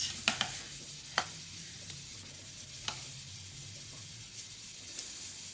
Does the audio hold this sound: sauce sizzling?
yes